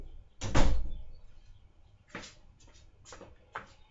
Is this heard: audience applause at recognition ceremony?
no